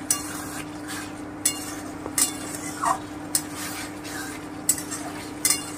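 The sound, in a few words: frying mutton korma with Kashmiri chilli powder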